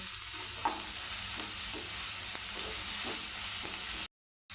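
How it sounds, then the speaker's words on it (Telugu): Dried prawns, onions and green chillies frying in a pan, a steady hissing sizzle with soft periodic stirring scrapes, running alone and close before cutting out briefly at the end. "రొయ్యలతో పాటు ఆనియన్స్ పచ్చిమిర్చి కూడా మగ్గనివ్వాలి"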